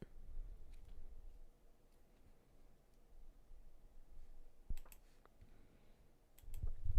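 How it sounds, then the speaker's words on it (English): Clicks of typing on a computer keyboard come in sparse, irregular taps, close and fairly quiet over a soft background hum, with a few sharper keystrokes near the end. "Here we'll have a typing ASMR, okay?"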